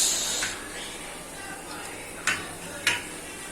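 A dish set down while sevaiya paste is being made, two short sharp clinks close together near the end against a quiet kitchen hiss.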